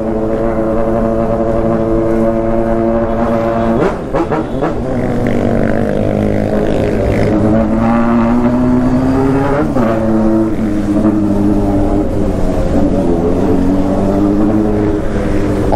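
A Honda Hornet motorcycle with a 3-inch straight-pipe exhaust roars loudly and close in a hillside neighborhood, holding a rough drone and then climbing in sharp rev surges twice, with no talking.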